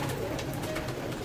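Pet pigeons coo in a loft, giving soft, low, rolling calls that overlap close by amid a steady murmur of flock noise.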